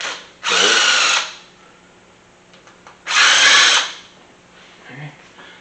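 A power drill removing the two 5.5 mm cam position sensor bolts from an engine during a teardown whirs in two loud, close bursts of about a second each, with quiet workshop noise and a small clunk in between.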